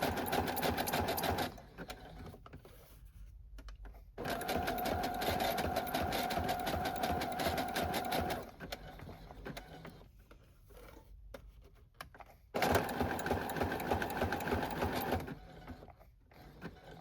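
A sewing machine stitches along the edges of a book dust jacket in three bursts of rapid, rhythmic mechanical chatter, separated by quieter pauses, close and clear.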